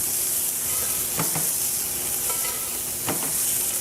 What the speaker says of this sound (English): So this is when I love to baste the meat with a little bit of butter.